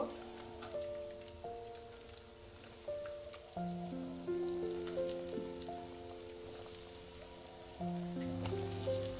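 Chicken wings frying in hot oil, a soft steady crackle and sizzle under background music, fairly faint and continuous.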